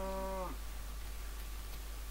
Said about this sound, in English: No, go away, cow.